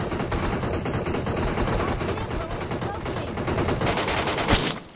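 Rapid gunfire in a Thai-played online shooter game, bursts of shots rattling steadily over dense game noise, with a sharper loud crack near the end.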